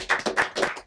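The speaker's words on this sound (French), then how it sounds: "Il faut l'applaudir pour ça aussi." An audience at a French debate breaks into a short burst of applause, with uneven clusters of clapping rising and falling over under a second.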